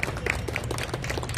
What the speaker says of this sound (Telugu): వారికి ఒకసారి చప్పట్లతో మీరు స్వాగతం చెప్పాలి.